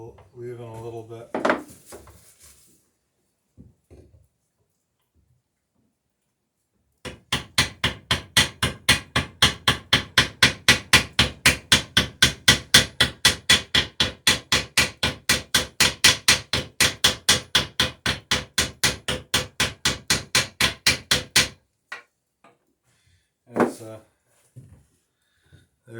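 Hammer peening a cut nail into a rivet on a wooden dory frame: a long run of rapid, evenly spaced sharp metallic-wood blows, close and loud, with brief talk before and after.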